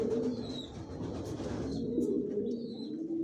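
Silver racer pigeons of a Johnson long-distance line, with a hen sitting in a nesting pot with a pair of squabs, coo in a soft, continuous low murmur close by, with no talking.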